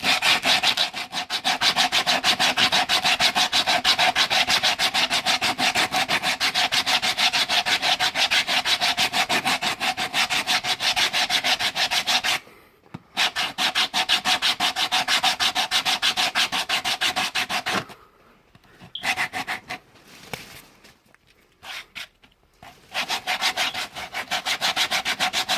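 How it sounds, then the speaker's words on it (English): A sanding block scrubs rapidly back and forth across a shaved 5.3L intake manifold, a dense rhythmic rasping that runs steadily, pauses briefly twice, then resumes in shorter, uneven strokes. "I get my block and I just sand it off"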